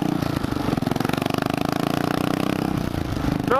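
A 2003 Buell Blast 500cc single-cylinder motorcycle thumps along on a test ride, its engine pulsing in a fast, steady rhythm, loud and close, with wind noise around it.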